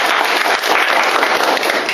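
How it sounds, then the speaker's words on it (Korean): Group clapping and applause at a Korean martial arts grappling class, a dense, steady burst of many hands clapping close by for about two seconds. "박수!"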